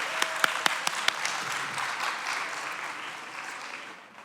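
Summit audience clapping to welcome a speaker to the stage, a few sharp early claps swelling into dense applause that fades out at the end.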